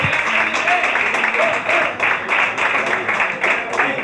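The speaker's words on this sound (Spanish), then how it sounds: "un fuerte aplauso para Antonio Ruiz." Dense, sustained applause from an audience welcoming a guest at a sports club presentation, steady clapping filling the whole stretch at close range.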